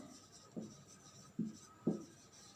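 Marker or chalk strokes on a board during a chemistry class, three short scratchy rubs spaced about a second apart, faint and close over quiet room tone.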